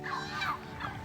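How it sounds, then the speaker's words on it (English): A turkey gobbling: a quick rattling burst of warbled calls, close and clear, lasting about a second with no speech. "turkey"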